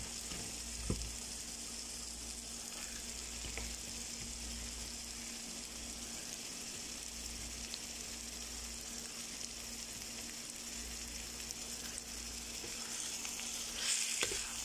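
Soaked, salt-rubbed bitter melon fries in a wok with spice paste, making a continuous soft sizzle with occasional light stirring scrapes, quiet and unbroken.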